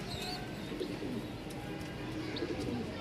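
A breeding pair of pigeons, a red male and a cream female, coo softly at a Mirpur pigeon market, with several low, throaty calls and light chirps over a busy background.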